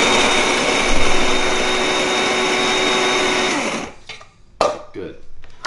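A cheap small electric coffee grinder whirs loudly and steadily on fresh coffee beans for about four seconds, then cuts out, followed by a few close knocks and rattles.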